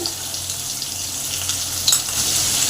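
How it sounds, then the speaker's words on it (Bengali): Potato pieces fry in hot mustard oil in a pan, a dense, continuous close sizzle with faint stirring noises and no voices. "আলুগুলোকে ভেজে নেব রান্নাটা আমি সর্ষের তেলেই বানাবো"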